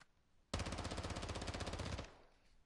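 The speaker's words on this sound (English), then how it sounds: "I've dumped almost half my mag just from that 5 or 6 feet as I'm firing" Close, loud burst of rapid automatic gunfire in Call of Duty DMZ, a dense stream of shots lasting about a second and a half before cutting off.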